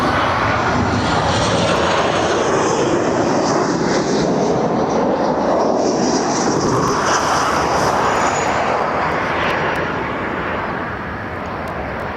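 A Ryanair passenger jet from Perugia arrives on runway 24R at Barcelona airport, its engines producing a loud, broad roar that fills the whole stretch and eases slightly toward the end.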